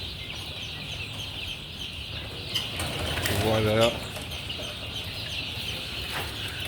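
Young laying hens clucking at an animal shop in Abymes, with a short burst of clucks and a possible rustle of wings rising over steady background noise; a voice says a single word.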